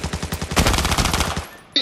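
Fast, loud FAMAS rifle bursts from the shooter game Arena Breakout rattle in a quick, even rhythm for over a second, then cut off into near silence.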